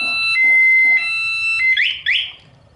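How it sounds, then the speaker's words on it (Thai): A loud motorcycle anti-theft alarm on a Honda Scoopy-i beeps in steady tones, then switches to quick rising chirps before cutting off as it is disarmed by remote, close and unaccompanied. "อันนี้เป็นล็อกล็อกแบบมีเสียงนะครับจะดัง"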